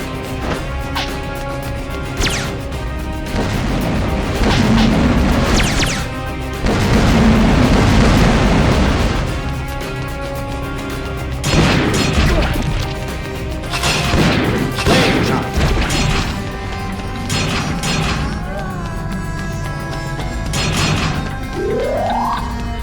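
Shotgun blasts and crashing impacts in the PS2 game Metal Slug 3D, loud bursts repeating irregularly over a dense bed of game music and effects.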